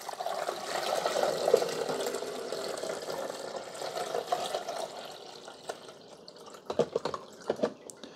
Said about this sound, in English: Then you simply pour the water and the vinegar back here where the water goes.